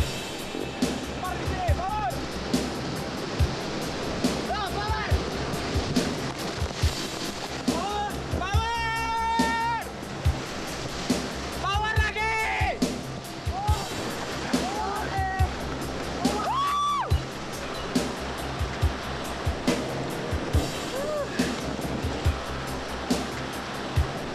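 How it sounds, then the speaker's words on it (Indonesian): White-water rapids on the Progo River roar steadily as a raft runs through them, with loud continuous rushing and splashing water and occasional sharper surges, while voices shout over the noise. "Tapi sebelumnya kita harus melewati 1 jeram lagi."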